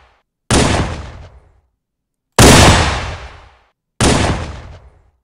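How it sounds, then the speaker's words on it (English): Three loud, close gunshots from the Halo 3 Magnum video game pistol ring out one by one at uneven intervals, each a sharp crack processed with reverb and amplification that leaves a long, booming tail, with silence between shots. "It's a lot punchier now with the reverb and the amplification"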